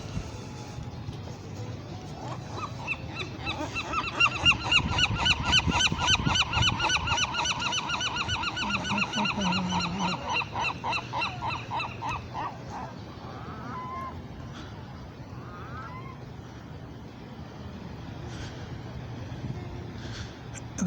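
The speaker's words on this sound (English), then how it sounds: "The seagulls have been affected by their environment." Seagulls on a pier in Santa Monica, California, give a long run of repeated, loud, nasal honking calls that swell and then thin out into scattered cries, with faint voices and ambient noise beneath.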